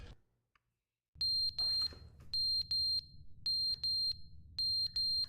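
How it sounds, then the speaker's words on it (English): Fire alarm in The Stanley Parable: Ultra Deluxe, a loud electronic beeping in quick paired bursts, repeating steadily after a brief quiet start, with no talk. "The fire alarm is going off."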